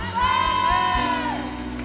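A church congregation cheers and shouts acclamations in one loud, sustained, whooping yell that holds steady for almost two seconds.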